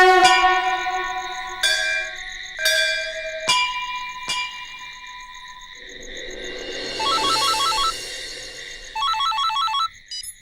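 A phone ringtone signals an incoming call late at night in a Hindi TV drama, a melodic electronic chime with bell-like tones that shifts into trilling, warbling bursts, loud and close with no voices.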